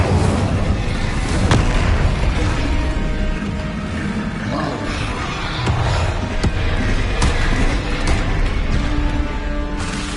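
Repeated Bombarda blasting spell explosions during a Hogwarts Legacy duel, loud booming impacts and sharp cracks over a dense, continuous roar of combat noise.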